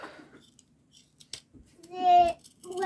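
Scissors snipping sewing fabric while trimming a baby sleep sack, a few short sharp cuts spread out amid quiet rustling, with a brief voice near the end.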